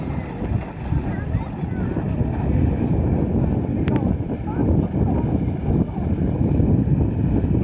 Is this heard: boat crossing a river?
yes